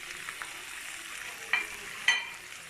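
Chicken Manchurian sautéed on high flame with salt, sugar and Chinese salt, a steady close sizzle with a couple of sharp stirring scrapes near the end, no voices.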